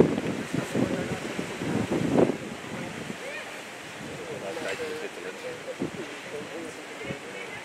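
Wind buffets an outdoor microphone during an IGP II dog sport trial, rumbling gusts that are strongest in the first two seconds, then ease into a lower steady rush, with faint voices mixed in.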